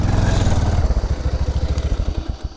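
A motorcycle engine runs loud and close, first as a dense steady roar, then settling into a rapid, even chugging pulse like a bike idling.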